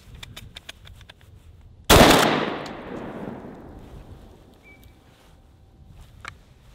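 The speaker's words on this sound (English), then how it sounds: "I realize I'm shooting the Versa Max a little bit more." A single loud Benelli Versa Max shotgun blast, close by, with a sharp crack that rolls off into a long decaying echo, set between faint outdoor clicks and rustles.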